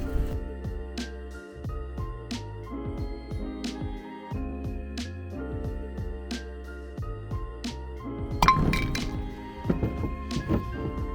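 Metallic clinks and thunks ring out as wheel bearings and a grease seal are worked out of a brake hub, sharp close knocks at irregular intervals, with a cluster of harder taps near the end.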